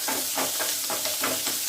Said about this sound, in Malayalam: ഇതൊന്ന് നന്നായിട്ട് വറുത്തിട്ട് ഉള്ളി ഒന്ന് കളർ മാറണം